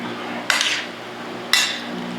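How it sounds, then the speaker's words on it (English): A spoon gives diced mango and its syrup two quick turns in a bowl, each a brief bright scrape against the side about a second apart, close and clear over a quiet background. "Give it a quick stir."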